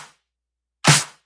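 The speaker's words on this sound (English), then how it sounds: "I'm creating a cool stack of snare that sounds like" A layered snare and clap stack hits once, loud and close, with a sharp noisy crack and a short decay, after a faint tail from a previous hit and near silence.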